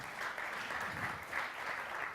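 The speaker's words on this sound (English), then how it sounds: "Round of applause for Rob." Conference audience applauding after a speaker is introduced, a steady wash of many hands heard faint and distant, sustained for about two seconds with no other sounds.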